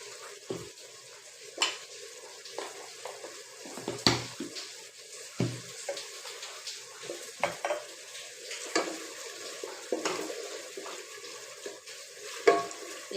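Rice being added and stirred into spices frying in oil in a pot for khichuri, giving a soft sizzle broken by irregular scrapes and clinks of a utensil against the pot, close by.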